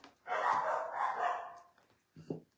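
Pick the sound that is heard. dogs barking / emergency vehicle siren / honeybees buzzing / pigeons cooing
dogs barking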